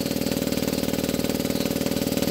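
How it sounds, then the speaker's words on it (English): An air compressor runs nearby during a glitter tumbler spraying session, a loud, steady mechanical drone with a fast, regular pulsing throb. "Sorry, my air compressor turned on."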